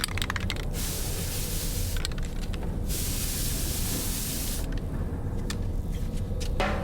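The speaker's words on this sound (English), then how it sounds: "it's like cheap spray dye too" Spray hair dye hisses in bursts as it is applied in the video game Death Stranding 2, with several broad, steady sprays separated by short gaps over a low background rumble.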